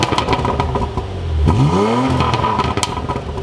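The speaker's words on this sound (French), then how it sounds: "je vous propose d'aller faire un tour afin qu'on puisse entendre un petit peu le moteur chanter" Porsche Macan Turbo with the Performance Pack pulling away, its engine revving up with a rising, clear growl over light road clatter, heard close from inside the car with no talking.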